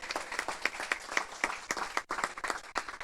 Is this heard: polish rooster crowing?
no